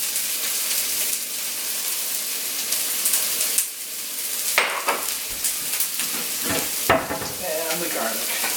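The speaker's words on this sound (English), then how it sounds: "got the onion and the shallot and the garlic fried just for a couple minutes" Onion, shallot and garlic sizzle and fry in a pan for an Italian spaghetti sauce, a steady close hiss broken by louder bursts as the pieces are stirred, with occasional scraping of the pan.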